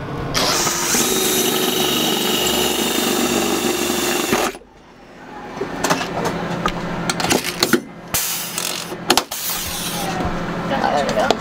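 A power drill drives into a ceiling bracer inside a 144/170 Sprinter van, whirring steadily for about four seconds, then giving a series of short bursts with clatter between them. Someone talks nearby.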